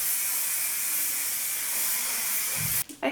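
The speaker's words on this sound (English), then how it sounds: "Then I go in with the Color Wow hairspray." Color Wow hairspray hisses from an aerosol can onto hair in one long, steady, close spray lasting nearly three seconds before it stops abruptly, followed by a faint breath.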